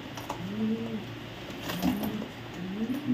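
Pigeons cooing steadily in a loft, a pair of red checker pied Lahori racer pigeons giving repeated low throaty coos that rise and fall in a continuous rolling rhythm, close and moderately loud.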